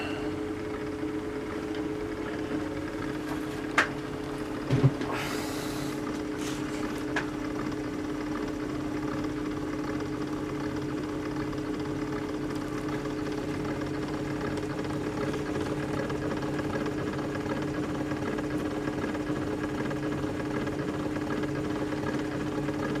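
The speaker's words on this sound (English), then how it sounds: "This is one of the few times I can showcase the motor actually in operation" A 1908 Victrola phonograph motor runs at 78 RPM with its horn removed from the case, giving a steady, faint mechanical hum and drone, with a couple of brief clicks early on.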